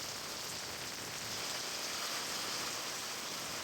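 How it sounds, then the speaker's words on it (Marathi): Heavy monsoon rain falls steadily in Ratnagiri district, Maharashtra, a dense continuous hiss with no voices. "रत्नागिरी जिल्ह्यामध्ये दमदार पाऊस झालाय"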